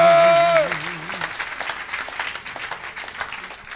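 A church audience breaks into sustained applause and cheering for Jesus after a brief sung or musical tone, with broadband clapping filling the whole stretch at steady loudness.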